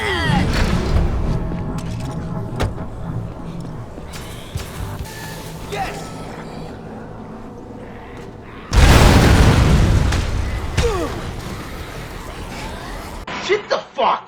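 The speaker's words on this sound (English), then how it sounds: "sometimes vehicles explode out of nowhere" A vehicle blows up in the game Dead Rising 3, a sudden loud boom bursting out partway through after steady engine and crowd noise, then a rumbling decay, with a person talking over the action.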